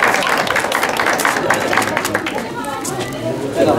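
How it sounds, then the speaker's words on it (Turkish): Young children aged four to six at a Quran course ceremony clap together amid excited chatter and voices, a busy, close mix of applause and crowd babble. "Alkış."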